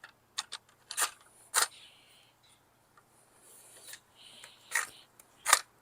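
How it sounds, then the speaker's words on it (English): Allen key working a screw out of the grip of a Game Face Insurgent AK-47 electric airsoft gun: a handful of sharp, faint metallic clicks and brief scraping ticks, irregularly spaced against near silence. "I'm gonna take this screw out."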